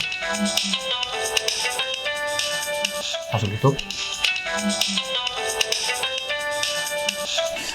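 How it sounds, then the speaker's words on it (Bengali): A melodic phone ringtone plays in repeating phrases, broken briefly by a voice speaking in the middle. "ফোন আইছে"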